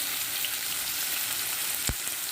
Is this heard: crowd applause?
no